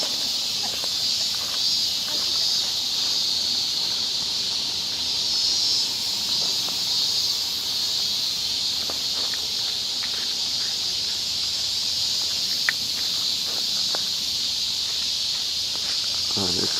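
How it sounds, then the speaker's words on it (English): Cicadas at Hotaka Grand Shrine in Japan, a steady high-pitched droning hiss that fills the whole stretch without a break, with faint scattered ticks and rustles beneath it. "The sound of the cicadas drew me in."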